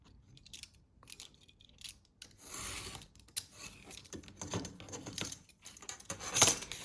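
Scissors snip through a cardboard piece, trimming a damaged edge for a handmade Christmas house decoration; a few quiet, crisp cuts and rustles come close up, with the loudest snip near the end and no talking.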